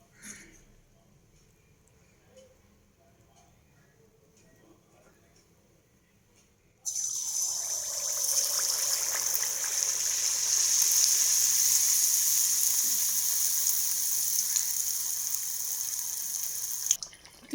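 Neyyappam batter hits hot oil and breaks into a loud, steady sizzle after a quiet start, frying continuously with a broad hiss until the end.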